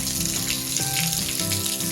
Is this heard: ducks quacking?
no